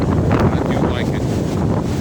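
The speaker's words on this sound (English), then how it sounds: "you can see it though, the wind blowing it, yeah. Hitting it from the west now." Strong gusting wind buffets and flaps a small Alps Mountaineering backpacking tent, a loud, steady roar with rustling fabric throughout.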